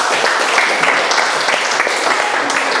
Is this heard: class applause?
yes